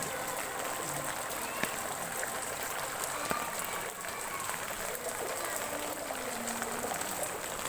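Floodwater surges strongly down a residential street in San Mitola, Baao, a steady broadband rushing roar that holds loud and unbroken throughout, with faint scattered clicks and bits of background voices under the flow.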